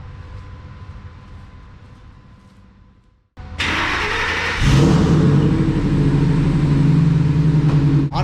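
A truck engine started after an exhaust leak was welded, quiet background hum giving way to a sudden loud start and a steady, deep idle that stays close and continuous.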